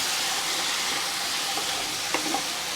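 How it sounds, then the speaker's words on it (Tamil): Tomatoes sautéing in hot oil with onions for a Tamil crab curry, a dense, steady hiss of frying that fills the whole stretch, with a couple of faint utensil scrapes near the end. "தக்காளி சேர்த்து ஒரு 3 நிமிஷம் நல்லா வதங்கணும்"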